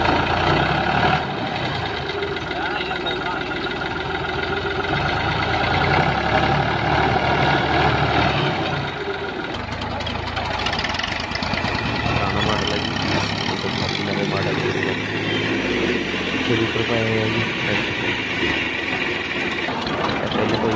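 Fiat 480 and Massey Ferguson 240 tractors straining to pull a loaded trolley, a loud continuous diesel engine drone with knocking rumble throughout, with people talking over it.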